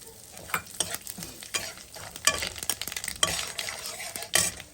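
Nigella seeds and asafoetida sizzle in hot oil while being stirred, a close crackling fry punctuated by frequent sharp spoon scrapes and taps against the pan.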